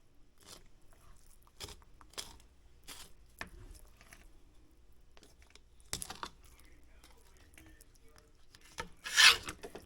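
A knife rasps and scrapes as a catfish fillet is worked off the spine and rib bones, giving a run of short, quiet scratching strokes close by, with one louder scrape near the end.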